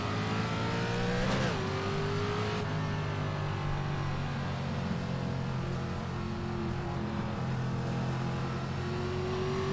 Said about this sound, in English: iRacing career mode, Langley in an ARCA car.